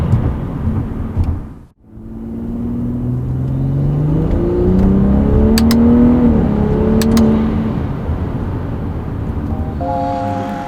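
A BMW accelerating hard on a test drive, engine pitch rising through the gears in a loud close pull, with a brief dip between shifts and rumbling road noise throughout.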